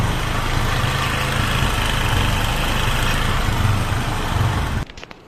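A motorcycle in poor condition awaiting a full service idles loudly and roughly with a dense, steady rumble, close by, then the engine noise stops suddenly and only faint clicks and handling sounds remain.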